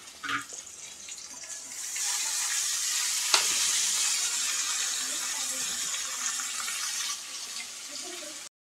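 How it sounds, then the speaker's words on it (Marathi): Onion and tomato frying with potatoes in a pan for palak batata bhaji, a dense hissing sizzle swelling after a couple of seconds and holding steady, with one sharp utensil tap and faint scraping. "कांदा आणि टोमॅटो लालसर होईपर्यंत आपल्याला शिजवून घ्यायचे"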